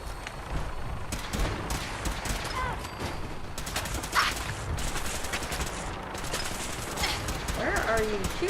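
Gunfire in the Fallout 4 video game, with scattered sharp shots and bursts popping over a busy, rumbling background, mostly mid-distance, plus a few odd chirps and tones.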